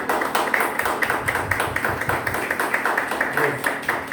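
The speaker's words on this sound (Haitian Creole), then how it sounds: "On applaudit s'il vous plaît." Audience applause at a Haitian talk event, a steady, moderately loud patter of many hands clapping throughout.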